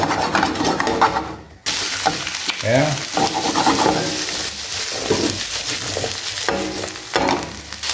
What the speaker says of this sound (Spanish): Vamos a poner todas nuestras verduras aquí y le vamos a dar una, una vueltita para que se dore